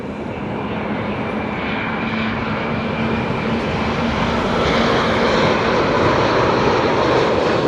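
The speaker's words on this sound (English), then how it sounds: "There's a 787 Dreamliner Qatar coming in." A Qatar Airways Boeing 787 Dreamliner comes in to land, producing a steady, broad jet roar that swells slightly louder toward the end as it nears, with no voices over it.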